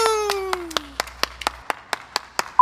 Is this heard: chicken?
no